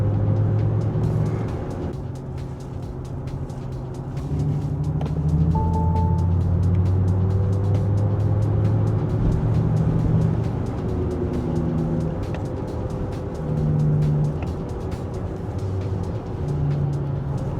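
A Xiaomi YU7 electric SUV drives fast, with a steady road and tyre rumble and a faint electric motor whine that rises and shifts in pitch, heard from inside the cabin.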